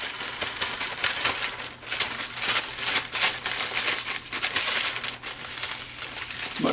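Plastic bag crinkling steadily and up close as large pork chops are slid inside, a dense rustling texture that runs throughout without talk.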